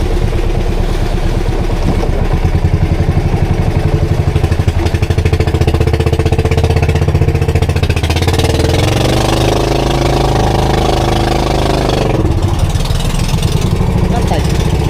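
A misfiring fishing-boat engine at sea on the Pacific chugs with a loud, uneven low rhythm close by, its beat shifting and roughening partway through, with no voices over it.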